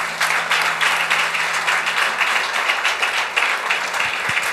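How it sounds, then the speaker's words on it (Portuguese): Church congregation clapping in praise, a loud continuous crowd applause with dense overlapping hand claps, a low hum beneath it, and a few sharper claps as it tapers near the end. "Dá uma salva de palmas a Jesus."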